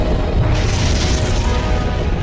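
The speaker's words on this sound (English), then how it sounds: "It would be a massive explosion with chunks of molten material flying around the Earth ballistically" A simulated meteor impact at Meteor Crater, a deep, loud rumbling boom that swells into a sustained roaring blast and then lingers, with no voices.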